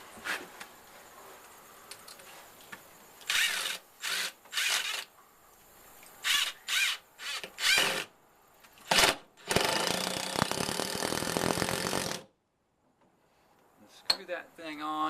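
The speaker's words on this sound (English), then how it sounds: "we're going to screw it to the pier itself, to the structure of the pier." A power tool drives screws into a wooden fishing pier outdoors: several short bursts of whirring, then one long sustained run, close and loud against quiet background with faint insects.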